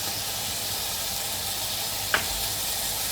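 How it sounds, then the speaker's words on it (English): Chicken sizzling in a pan on high heat, a constant close hiss of frying that carries on steadily, broken once by a faint brief clink. "Okay, started sizzling."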